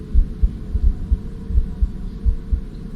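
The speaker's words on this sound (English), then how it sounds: "as well as a heartbeat sound" Heartbeat sound effect from a retro horror video game: a steady, low, thumping double-beat pulse repeating about every half second over a droning hum, loud and close with no voices.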